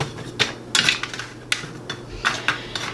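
Buttered pecans being spread across a baking pan make light, irregular clicks, taps and scrapes of nuts against metal, close by with no talking.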